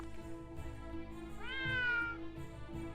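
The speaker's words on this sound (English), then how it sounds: "There's a cat." A cat in the video game Triangle Strategy gives a single clear meow, rising and falling in pitch, over soft game background music with no talking.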